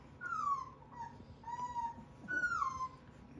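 A two-week-old fawn male North American Mastiff puppy whimpers in three high, drawn-out whines, each sliding downward in pitch, close by against a low background hum.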